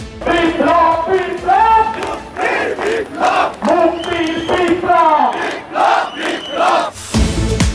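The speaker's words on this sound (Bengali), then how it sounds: "স্লোগানে স্লোগানে মুখরিত জনতা দলে দলে যোগ দিতে থাকে সম্মেলনে।" A large crowd chants slogans in rhythmic unison at a mass rally of Hezbut Tawheed in Kushtia, loud and close, with repeated call-and-response phrases and a brief burst of noise at the end.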